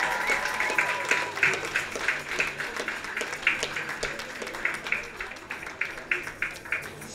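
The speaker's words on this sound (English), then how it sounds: "And let's applaud for the smallest ones." An audience at a talk on recycling and clean energy claps in steady applause that keeps going throughout, heard from within the room.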